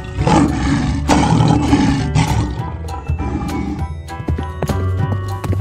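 A lion roars loud and close in a rough, drawn-out burst, then several sharp knocks and rumbling tones follow, with no talking.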